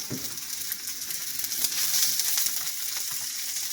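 Chicken and shrimp stir fry sizzles steadily in a hot pan, a loud, close, continuous hiss with faint stirring scrapes and no talking.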